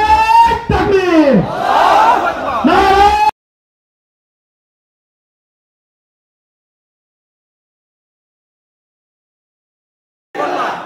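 Crowd at an outdoor election street rally in Nandigram, Kahalu, roaring back a religious slogan in unison: a loud, dense burst of many voices lasting about three seconds, then silence until the voices briefly return at the very end.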